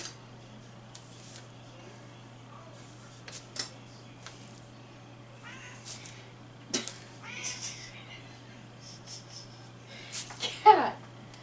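Cat meowing in a quiet room, a handful of short separate meows spaced out over several seconds, the loudest coming near the end, with a faint steady hum underneath and voices at moments.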